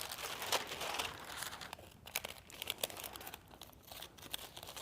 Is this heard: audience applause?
no